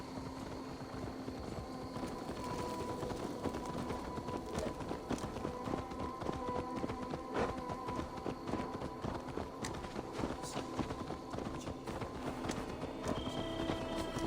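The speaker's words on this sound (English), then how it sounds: "Let's return the horse." Hooves clip-clop at a brisk trot from a horse in the video game Assassin's Creed Valhalla, a continuous rapid patter of footfalls at moderate level with faint game ambience and no talk.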